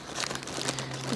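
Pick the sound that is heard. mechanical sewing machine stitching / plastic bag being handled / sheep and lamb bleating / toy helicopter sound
plastic bag being handled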